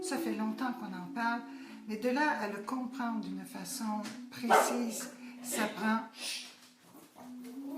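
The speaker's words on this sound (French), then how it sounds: "C'est mon chien." A man's pet dog barks and yips in short bursts close by, partly under a man's steady French speech that runs through the whole stretch.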